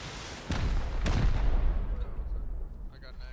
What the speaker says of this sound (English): Alright, four launchers on me.